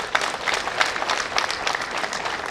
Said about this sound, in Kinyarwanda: mwiha amashyi kuko mwese mwabigizemo uruhare